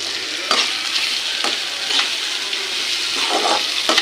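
Onions sautéing in a pan for crab masala, a steady loud sizzle broken by occasional stirring scrapes and clatters.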